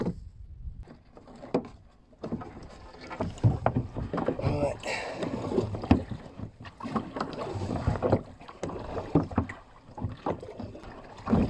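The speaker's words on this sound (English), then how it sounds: "So I'm gonna do some rowing now." Oars splash and knock rhythmically as a Mirror dinghy is rowed in Pagham Harbour, with water sloshing and wind noise on the microphone throughout.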